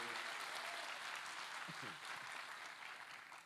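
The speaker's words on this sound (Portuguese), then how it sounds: "Você pode aplaudir mais forte os nossos jovens" Sustained applause from a large crowd fills the space, a dense steady clatter of clapping that tapers slightly at the end, with a brief voice underneath.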